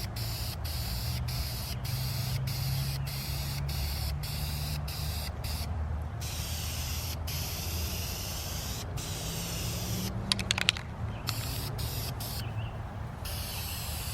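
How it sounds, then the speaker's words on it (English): Steady, continuous hiss of a black lacquer spray paint can, close and loud, running unbroken for the whole stretch with a few faint clicks and taps near the end. "we took this lacquer black spray paint, which coated really well"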